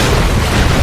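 A dense, loud explosion blast in the side-scrolling action game Broforce, a continuous broadband roar filling the short moment with no speech.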